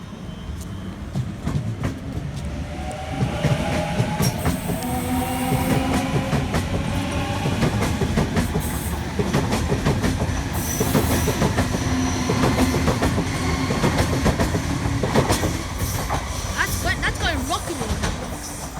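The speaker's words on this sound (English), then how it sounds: "That train went flying through." A train passes through the station at speed, a loud sustained roar with rapid clickety-clack of wheels and rattling cars that swells and holds, while a voice talks faintly underneath.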